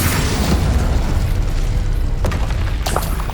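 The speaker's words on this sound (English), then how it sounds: "Confringo!" In the video game Hogwarts Legacy, a Confringo spell goes off as a loud, booming blast that rumbles continuously through the whole moment, with a couple of sharper cracks toward the end.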